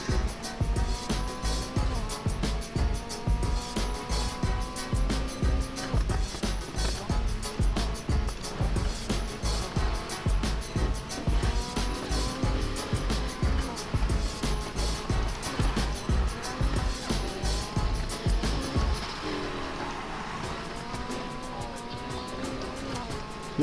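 A car engine roars and revs steadily in a Need for Speed Heat race, with a sustained growl and shifting pitch, tire noise underneath, then settles into a quieter hum near the end.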